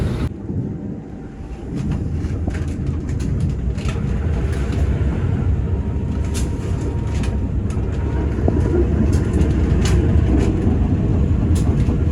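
The Kahuripan train pulls out of Krian station, a deep steady rumble of rolling carriages rising after a quieter start, with faint clicks and rattles over the track.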